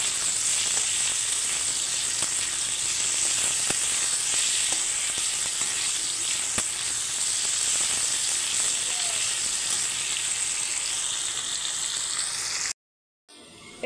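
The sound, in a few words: potatoes frying in a pan for aloo posto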